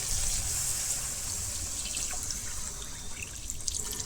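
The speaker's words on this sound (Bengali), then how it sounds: "এরপরে দিয়ে দেবো জল," Water pours steadily into a cooking pot of bottle gourd and meat, a continuous bright splashing trickle heard up close with no talking.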